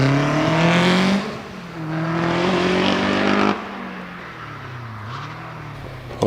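A Caterham 7 race car climbing the Prescott hillclimb course, its engine loud and close as it revs hard through rising gears, cutting off on a lift, then pulling away more faintly.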